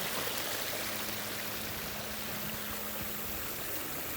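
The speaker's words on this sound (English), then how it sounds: "The sound of that waterfall." Steady broadband rush of falling water from a garden waterfall, continuous and fairly close, with a faint low hum running underneath.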